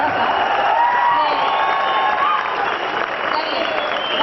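An audience at an engineering college cultural fest performance applauds warmly, a dense steady clapping with some crowd noise that eases slightly toward the end.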